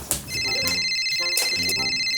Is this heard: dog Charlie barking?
no